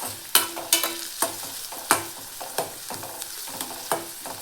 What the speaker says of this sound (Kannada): ಈಗ ಇದನ್ನು ಫ್ರೈ ಮಾಡೋಣ್ರಿ ಎಣ್ಣೆ ಒಳಗೆ